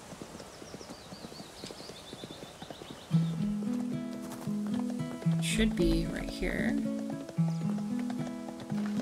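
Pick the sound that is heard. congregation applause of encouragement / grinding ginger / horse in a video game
horse in a video game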